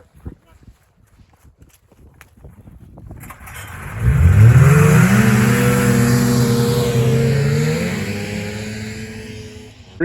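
Snowmobiles fire up and accelerate at a race start, a loud engine roar that swells suddenly and holds steady. Faint voices and scattered clicks come just before it.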